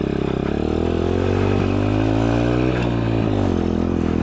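A dirt bike engine revs hard and steadily with the rear tire spinning in a burnout launch, its loud, close drone rising and falling in pitch over a few seconds.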